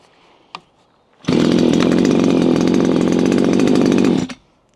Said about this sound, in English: Now I'm going to use the string trimmer first